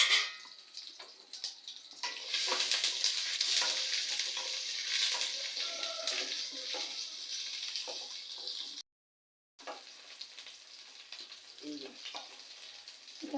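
Onions, big and small, hit hot oil with popped mustard seeds in a pan for a Tamil lunch dish, giving a loud hissing sizzle that eases off, breaks briefly into silence, then resumes more softly.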